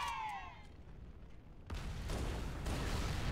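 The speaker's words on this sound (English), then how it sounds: "Wait for the second explosion." Game explosion in Halo: Combat Evolved, a sudden broadband blast about halfway through that swells into a sustained rumbling roar, with a brief high-pitched whine fading out just before it.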